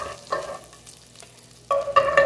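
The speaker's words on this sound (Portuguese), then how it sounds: "na mesma panela, tu grelha o bacon, mais ou menos 150 gramas de bacon fatiado" Roughly 150 grams of sliced bacon fries in a pot, a soft crackling sizzle with quick stirring scrapes; the sizzle comes in short bursts that swell louder near the end.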